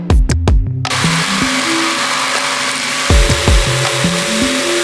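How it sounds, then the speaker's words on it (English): A power drill fitted with a blunt hole saw cuts into a shelf, whining loudly with a few sharp knocks at the start, then a sustained grinding drone that dips and restarts midway. "First, my blunt hole saw snapped its drill bit in half."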